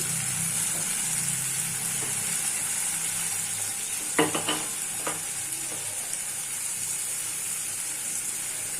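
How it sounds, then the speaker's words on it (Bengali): Flat beans (shim) fry with salt and sugar in a pan, a steady hissing sizzle with a couple of brief utensil scrapes and taps partway through. "ব্যাস, এবার এটাকে আমি ভালো করে ভেজে নেব।"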